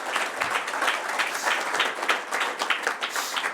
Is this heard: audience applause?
yes